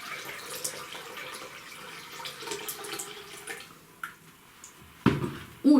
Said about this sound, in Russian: Наливаю в емкость, то есть в мойку.